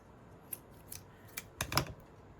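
Scissors trim card stock for a handmade 5x7 card, with a few short separate snips and then a quick cluster of close crisp cuts near the end, alone in a quiet room.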